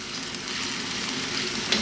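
Sweet and sour pork sauce stir-fries on very high heat, a dense, loud, unbroken sizzle up close with a faint clink at the end and no voice.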